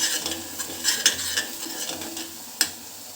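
Curry leaves fry in a pan for Onam Sadya inji puli, giving a soft, steady sizzle with light stirring scrapes and a few sharp metallic clinks, the loudest near the end.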